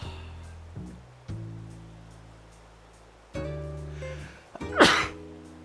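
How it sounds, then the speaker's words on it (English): One person gives a single sharp sneeze near the end after a quiet stretch, loud and close, with a soft breathy gasp leading into it. "I'm gonna sneeze"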